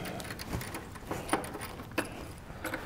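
Faint metallic clicks and scrapes come at an irregular pace as a screwdriver works a corroded screw loose on an Akai 4000 DS II tape deck.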